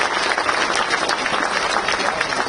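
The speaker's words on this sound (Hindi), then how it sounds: "आपकी खुशियां आपकी तालियों में हमें सुनाई पड़ रही है" Dense applause from a large audience at a ceremony where appointment letters are handed to newly appointed training officers, a steady wash of many hands clapping continuously at moderate loudness with no voices over it.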